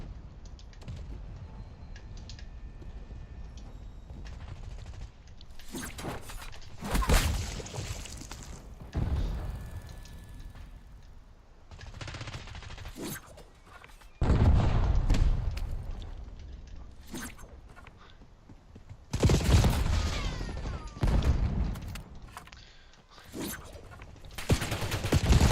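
Bursts of video game gunfire in an online shooter, several loud clusters of rapid shots spread across the clip with quieter stretches between, heard alone without speech.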